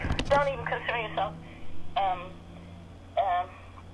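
A phone rings in three short melodic tonal bursts, a longer one first and then two brief rings spaced apart, at moderate volume.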